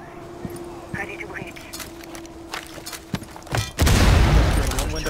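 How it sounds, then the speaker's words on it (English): Cluster charge detonations in the Rainbow Six Siege video game, a scatter of sharp pops and thuds with footsteps, ending in a loud, dense blast near the end, with players talking throughout. "Detonation cluster charge!"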